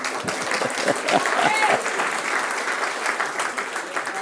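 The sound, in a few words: congregation applause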